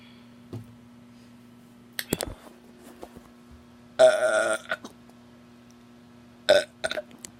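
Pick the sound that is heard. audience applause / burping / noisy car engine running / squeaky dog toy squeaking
burping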